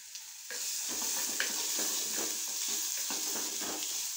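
Beaten egg mixed with pepper is poured over half-cooked prawns in a hot pan. A sudden loud sizzle rises and holds steady, with soft stirring scrapes close up.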